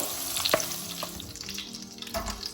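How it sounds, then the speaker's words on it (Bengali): Zucchini and potatoes fry in plenty of hot oil, a soft steady bubbling sizzle with a few clinks and stirring knocks nearby. "অনেক তেল ফুটাচ্ছে। এখন জুকিনিটাকে তুলে আমি আলু দিয়ে দিব।"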